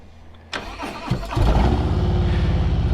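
A 2020 Harley-Davidson Road King Special motorcycle engine starts: a starter whirs, the engine catches with a loud burst, then settles into a deep, steady, close rumbling idle.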